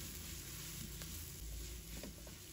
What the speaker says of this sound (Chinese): 1分钟以后，我们再把鸡蛋放入锅中，继续翻炒均匀